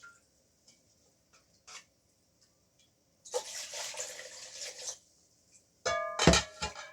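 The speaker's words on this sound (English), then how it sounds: "Let me pour some of that water into there" Water poured from a container into a small pot holding sweet potatoes being started for slips indoors, a few faint trickles and then two splashy pours of a second or so each, close by with no talking.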